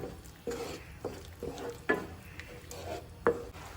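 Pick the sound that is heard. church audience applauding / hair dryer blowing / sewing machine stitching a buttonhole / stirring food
stirring food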